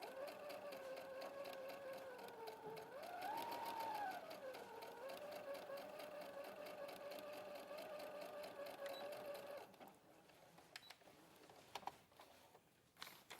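A domestic sewing machine stitches forward and back with a steady fast rhythmic chatter and motor hum, pitch rising briefly mid-run, then stops, leaving quieter clicks and handling noises near the end.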